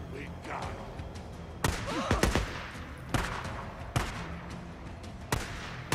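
Sharp gunshots ring out in the open-world video game Days Gone, several single cracks and short bursts spaced a second or so apart, loud and close over background game ambience and voices.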